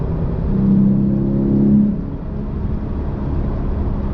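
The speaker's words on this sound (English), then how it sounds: "Deeper, throaty sound of the exhaust." A deep, throaty exhaust from a Porsche 993 with an upgraded aftermarket exhaust rumbles steadily at close range, swelling briefly in the first two seconds before settling into an even idle.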